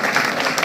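An audience at a political parish meeting in St. Michael gives a short, loud burst of dense clapping that sounds close and busy.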